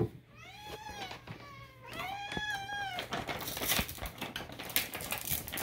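A kitten meows twice in quick succession, high and clear up close, followed by soft rustling and tapping noises with no talk.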